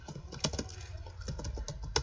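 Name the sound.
typing a command on a computer keyboard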